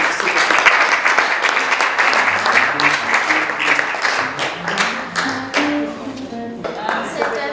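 An audience at a gala evening gives loud, sustained applause and an ovation, dense close clapping that thins slightly toward the end, with a voice faintly mixed in.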